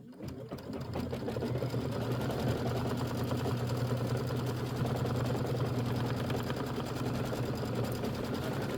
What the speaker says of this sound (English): stitch the swimsuit placement line. Let's go ahead and do that.